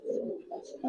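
Old-breed Giribaz pigeons coo in a low, throaty run of short burbling phrases, close and moderately quiet.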